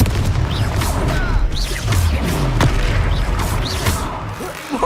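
In the Hogwarts Legacy video game, Confringo fire-spell blasts crack and boom repeatedly over a loud, continuous roar of battle, with whooshing spell streaks and crashing impacts.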